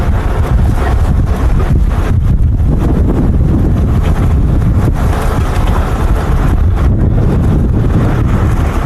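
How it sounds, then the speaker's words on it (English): Strong wind roars across an exposed ridge crest in the bush, a loud, constant buffeting rush with gusty dips that fills the whole stretch without letup. "get away from the strong wind up here on the ridge crest"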